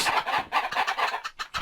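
Minecraft chickens crowd a chicken farm and cluck in a steady run of short, overlapping bursts, fairly close and busy, with no talking.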